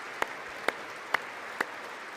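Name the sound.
clapping into a microphone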